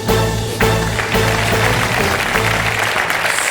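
Game show studio audience applause, a dense sustained clatter of clapping filling the room, steady and loud throughout with no voices on top.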